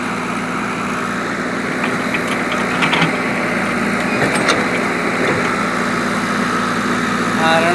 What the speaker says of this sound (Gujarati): આ રણમલપુર ગામે જીસીબી ચાલી રહ્યું છે.